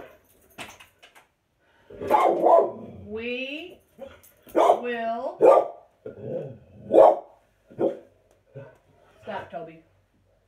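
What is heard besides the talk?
dog barking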